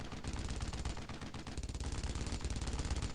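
Rapid, dense automatic gunfire crackles without pause in the World War II video game Brothers in Arms: Road to Hill 30, with bursts of shots layered over each other; no talk.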